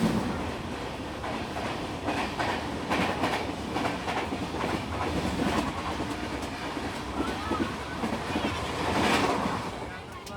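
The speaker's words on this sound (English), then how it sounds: "some express train rushed towards Mumbai on the Up Fast line" An express train rushing along the Up Fast line near Neral Junction, heard as a continuous rolling roar with wheel clatter from on board, steady and fairly loud for the whole stretch.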